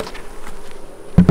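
Honeybees buzzing inside a hive box during feeding, a soft steady hum close by, ending in a brief loud knock or thump.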